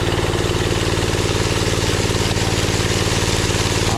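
A concrete rolling machine's engine idles steadily at low revs for a garage slab pour, with a loud, close, even rumble and a regular pulsing throb throughout and no voices.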